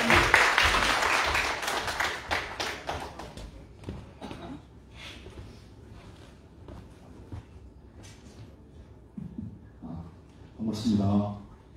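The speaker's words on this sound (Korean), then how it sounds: "박수로 한번 크게 부탁드립니다." A crowd applauds at a political academy event in Jeju, loud clapping at the start that thins into scattered claps and fades. Speech follows, with another short burst of sound near the end.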